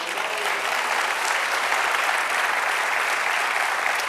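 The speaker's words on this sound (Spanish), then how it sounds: "Den un aplauso al Señor." A church congregation applauds in unison, a steady, loud wash of clapping from many hands filling the room, sustained without pause and with no voices rising above it.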